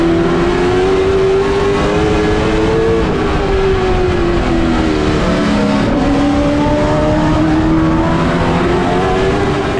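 Race cars in a CARS Tour event at Southern National speedway accelerate through a restart, a loud, continuous engine roar from the pack with pitches climbing and shifting as cars pull away together.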